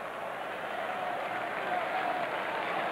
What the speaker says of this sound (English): But the crowd is still buzzing over Dave Winfield's big blast.